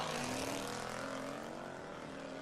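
Jeep Trackhawk racing a Hellcat, its supercharger whining in a steady rising drone over a loud engine roar that holds level for the whole stretch and seems close by.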